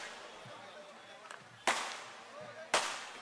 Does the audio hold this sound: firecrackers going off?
yes